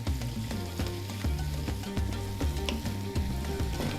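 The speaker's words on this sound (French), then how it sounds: "On va rajouter échalotes et poireaux. Donc, on va mettre ça là-dedans. Comme ça. On va bien mélanger. On va faire revenir ça quelques minutes." Shallots and leeks sautéing in a pan as the base for a risotto with Italian sausage and asparagus, a continuous close sizzle with crackling pops and a faint steady tone underneath, no voices.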